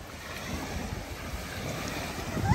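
Lake waves lapping and washing against the shore, with wind buffeting the microphone throughout and the rush swelling louder near the end; no speech.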